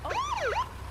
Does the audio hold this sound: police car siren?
yes